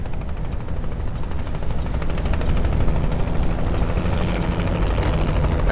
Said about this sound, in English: I can hear the helicopter